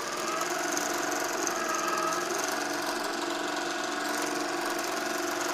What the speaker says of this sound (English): Hold these threads nice and taut until that machine stitches away.